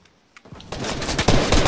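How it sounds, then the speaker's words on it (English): Rapid gunfire in a one-versus-one build-fight video game match, a quiet start breaking into dense, loud bursts of shots that grow heavier toward the end. "Why are you shooting me?"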